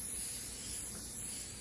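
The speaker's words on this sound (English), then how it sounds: "let's varnish our painting using thin, even coats, okay? Don't concentrate the spray all in one area" Krylon Kamar varnish sprays from an aerosol can onto an oil painting, a close, steady hiss that runs unbroken through the short stretch with no talk.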